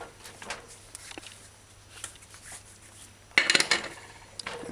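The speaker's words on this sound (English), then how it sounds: "Now, put the lid on the pressure cooker properly." A pressure cooker lid with its rubber gasket is set onto the cooker in a home kitchen while a beef and broad bean brown stew is being made, giving a short burst of metallic clanks and rattles after quiet handling noises.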